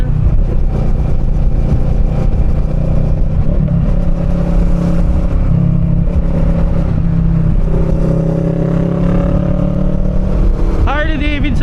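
A Harley-Davidson motorcycle riding alongside in traffic on a Batangas road during holiday season, its engine drone blending with steady road noise, close and continuous.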